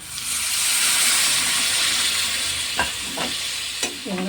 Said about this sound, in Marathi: याच्यात पाणी टाकून आपल्याला ही भाजी शिजून घ्यायची